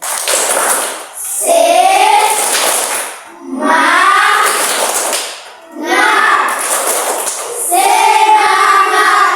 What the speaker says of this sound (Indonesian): coba tepuk semangat dulu